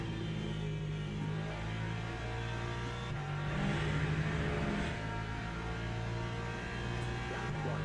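A hypercar engine in the Le Mans Ultimate racing game holds a steady, loud drone at high revs throughout, with slight swells in pitch and no voices.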